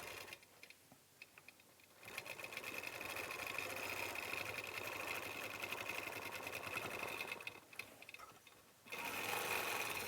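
A sewing machine hums continuously while quilting a radiant star block, stitching in the ditch, with one brief pause before it resumes at a steady, close-up pace.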